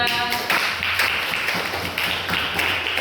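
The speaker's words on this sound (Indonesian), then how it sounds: "Kita kasih aplaus buat kelompok 3." A classroom group claps for fellow students after their presentation, steady overlapping hand claps filling the room at moderate loudness, with a voice heard briefly underneath.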